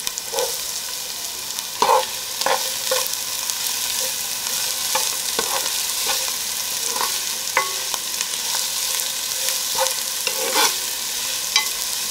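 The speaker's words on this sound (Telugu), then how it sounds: "ఇప్పుడు ఉల్లిపాయ ముక్కలు వేగాయి" Chopped onions fry in hot oil with mustard seeds, chillies and curry leaves, giving a steady close sizzle broken by occasional stirring clinks and pops, with no one talking.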